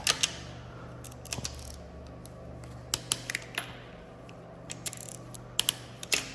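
Sharp ratchet clicks, scattered and irregular, from a socket wrench cracking loose engine bolts in a working-outside-in sequence during a car engine teardown; isolated bursts of clicking against a quiet background, with no talking.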